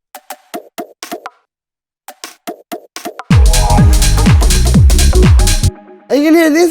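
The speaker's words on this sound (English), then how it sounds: "which actually just has these percussions in it." Drum rack percussion in a deep micro house track, starting with sparse, light plucky hits in a swung pattern, then a dense, full mix with booming low hits enters, close and loud, without voices.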